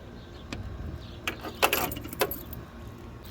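Metal keys jangle and scrape as a key is worked into a mailbox lock, with a few sharp clicks and rattles standing out over a low, steady background hum.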